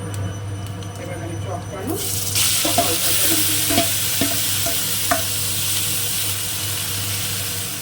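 Oil sizzles in a pan for amra chutney, with a few scraping stirs and a bright, steady frying hiss that grows stronger partway through.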